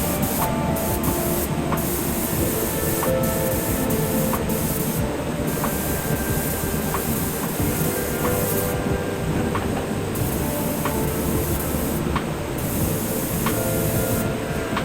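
A spray gun lays a second coat of paint thinned with thinners onto an Alfa Romeo 155 under restoration, a steady loud hiss running throughout with repeated short pauses and faint clicks as the trigger is released and pressed again.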